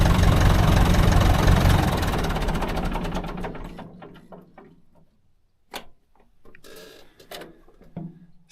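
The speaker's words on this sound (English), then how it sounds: "This is the good old tractor." An old farm tractor's engine idles loudly and close, a dense chugging rumble that gradually winds down and stops around midway, followed by a few scattered clunks and knocks in the quiet.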